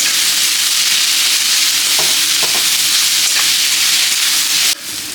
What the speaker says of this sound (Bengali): আর সুন্দর করে নাড়াতে হবে।